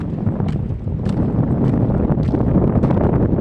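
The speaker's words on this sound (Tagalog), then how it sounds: "Wow, sarap ng hangin." Strong wind at a port in San Andres, Quezon, buffets the microphone with a continuous low roar, punctuated by brief gusty bursts, with no talking over it.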